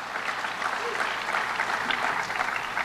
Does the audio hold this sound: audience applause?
yes